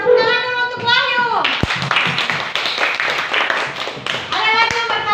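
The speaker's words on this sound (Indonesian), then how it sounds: "Tepuk tangan dulu untuk Wahyu." Fourth-grade schoolchildren in a classroom clap for a classmate in a lively burst, framed by children's voices speaking before and after.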